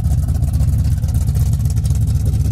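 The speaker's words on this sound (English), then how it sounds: "The exhaust comes out by the tailpipe, so it's a little loud, but some people like that sound and that feel of the car" A 1970 Camaro idling with a loud exhaust exiting at the tailpipe, a deep, throbbing low rumble that holds steady and close throughout with no talk.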